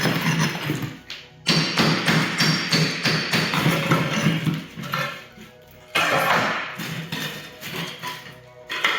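Repeated thuds and scraping taps as a big steel chisel pries up old ceramic floor tile, loud and close, with a brief pause near the middle before the hammering resumes.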